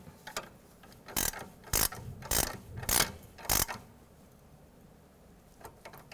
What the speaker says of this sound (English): I like to get it started with a wrench first.